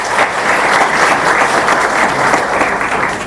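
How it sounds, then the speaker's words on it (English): Audience applause at a ceremony releasing the 2018 KCSE exam results, a dense, steady wash of many hands clapping close and loud for several seconds. "Clap for yourself."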